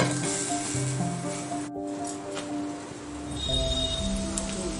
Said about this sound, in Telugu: నిదానంగా చామగడ్డ లైట్ బ్రౌన్ కలర్ వచ్చేదాకా కలుపుతూ ఫ్రై చేసుకోవాలి మూత పెట్టుకొని